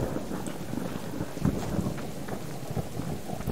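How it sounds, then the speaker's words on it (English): A steady, dense rain downpour with low rumbling thunder fills a thunderstorm in the survival game Subsistence, constant and enveloping with no other sounds. "the noises of it are pretty realistic. I wouldn't want to be out in this storm"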